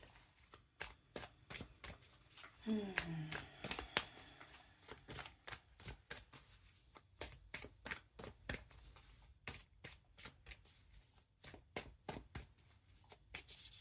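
Rapid, crisp riffling of tarot cards shuffled repeatedly close by, in quick bursts with short pauses, briefly joined by a soft voice.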